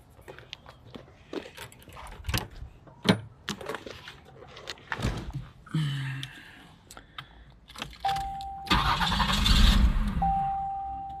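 A 1990 Buick Reatta with a 3.8L V6 cranks with a whirring starter, catches briefly with a short roar and dies straight away, heard nearby after scattered clicks and handling noises.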